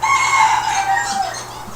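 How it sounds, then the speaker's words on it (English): A rooster crows close by in a yard, one drawn-out call that rises and then fades over a couple of seconds, with no other sounds around it. "rooster from somewhere in the area that keeps coming into the yard"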